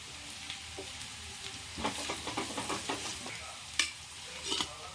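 Cumin masala sizzles in a hot pan as a spoon stirs it, giving a steady frying hiss broken by a run of scraping and clinking strokes against the pan.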